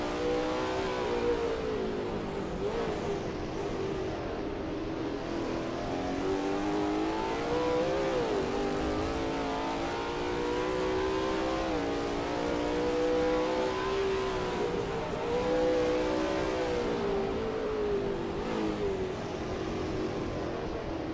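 Lola T70 MkII Spyder race car in a racing video game at Sebring, its engine droning loud and steady throughout, pitch rising and falling as it revs through the corners, with no talk.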